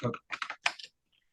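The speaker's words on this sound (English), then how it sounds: "as I was typing, that's just hitting Control and backspace" Keys clatter on a computer keyboard during office work as a few short bursts of close clicks arrive in quick clusters, then fall silent.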